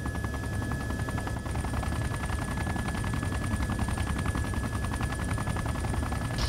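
Heavy gunfire mixes with the constant thudding of a helicopter in Arma 2 combat, a dense rapid rattle of machine-gun bursts over a steady rotor drone that never lets up.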